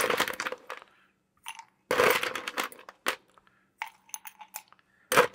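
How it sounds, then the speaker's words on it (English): Ice cubes packed into a cocktail glass for a non-alcoholic drink, heard as a few separate bursts of clinking, rattling clatter with short quiet gaps between them, close and fairly loud. "Pack the ice."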